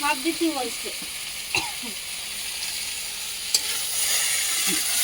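Fish sautéing in a pan in a home kitchen, a steady hiss of frying with a few brief stirring clatters, and voices speaking briefly near the start.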